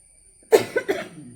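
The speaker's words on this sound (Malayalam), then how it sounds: "ചെറിയൊരു ചുമ" A single small cough, close and clear, followed by a couple of softer throaty bursts in otherwise quiet surroundings.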